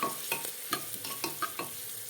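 Onions being stir-fried for kushka rice, a soft sizzle under quick rhythmic spatula scrapes and taps against the pan, close and fairly quiet, with no speech.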